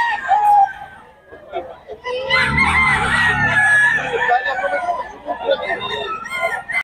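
Sweater-breed gamefowl roosters crowing at a poultry market, several overlapping drawn-out crows and clucks close by, with people talking throughout.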